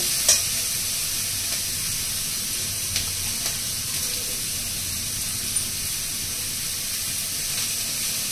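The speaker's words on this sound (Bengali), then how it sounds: "সেই সবজিগুলোকে হালকা একটু ফ্রাই করতে হবে" Vegetables for sukto lightly frying in a pan give off a steady, even hiss close by, with a few faint clinks scattered through the continuous sizzle.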